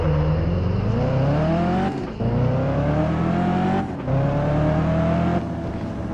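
A car engine in the racing game Test Drive Unlimited 2 revs hard and climbs in pitch, broken by three brief gear-shift dips. It is loud and close, with no talking.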